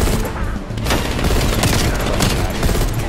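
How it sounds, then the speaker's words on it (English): Groza assault rifle from Call of Duty: Black Ops Cold War firing in loud, dense automatic bursts of close, sharp cracks that run almost unbroken for about three seconds. "that right there is the new Groza in Call of Duty Black Ops Cold War"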